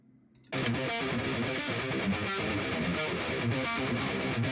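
Distorted electric guitar mix without low-end boost, a dense, thin-sounding wall of chords that kicks in abruptly after a brief quiet lead-in and sustains loudly.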